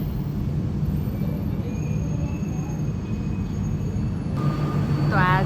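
A train pulls into the Singapore airport station at Terminal 2, a steady rumbling roll of rail cars with a brief squeal of wheels near the end, while a voice speaks over it.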